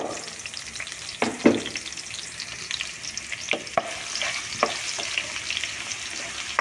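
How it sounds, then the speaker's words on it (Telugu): Onion pieces fry in coconut oil with a close, steady sizzle, broken by several sharp scraping strokes of stirring. "కొబ్బరి నూనెలో ఇంత కమ్మగా వేగుతున్నాయి అన్నీను"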